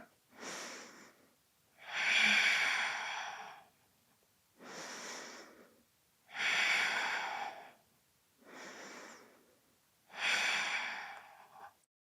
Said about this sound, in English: Take 3 more breaths.